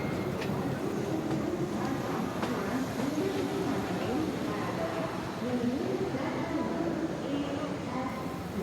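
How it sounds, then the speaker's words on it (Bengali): A train rumbles along with a continuous low roll and rattle heading into a station, steady and fairly quiet beneath a narrating voice. "ট্রেনটা পরবর্তী স্টেশনে থামল।"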